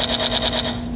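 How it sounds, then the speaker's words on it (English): Rapid automatic gunfire at a shooting range, a quick run of about six evenly spaced bursts over a steady hum, fairly close and moderately loud. "this is how the gun sounds."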